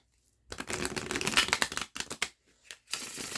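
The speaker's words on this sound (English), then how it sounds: "Let's give it a shuffle." Cards are shuffled up close in a few quick riffling bursts, crisp fluttering with short pauses between, faint and without speech.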